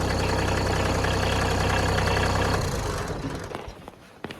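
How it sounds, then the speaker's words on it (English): A tractor engine idles loudly up close during snowplowing on a camp road, a steady low rumbling chug that winds down and fades out as the engine is shut off. "Actually, I could probably shut the tractor off."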